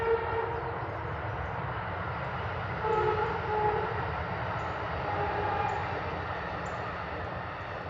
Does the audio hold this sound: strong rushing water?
no